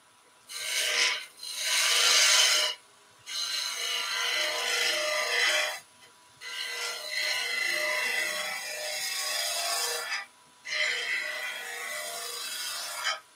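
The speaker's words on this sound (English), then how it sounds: "Tool rest goes up because we're using the skew chisel." A skew chisel cuts wood on a lathe while shaping a traditional German Christmas ornament, producing a loud, close rasping hiss in several sustained passes separated by brief pauses.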